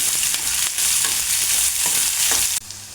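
Onions, green chillies, curry leaves and tempering spices frying in a pan, a loud, dense crackling sizzle right up close with rhythmic stirring strokes, dropping abruptly quieter near the end.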